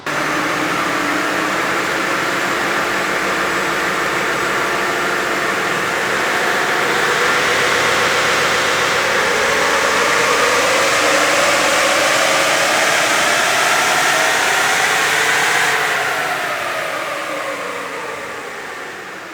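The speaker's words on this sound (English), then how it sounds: "So that was a run on the Navara." A Nissan Navara NP300 engine roars steadily during a dyno tuning run, a loud, sustained drone that climbs in pitch toward a peak before easing off near the end.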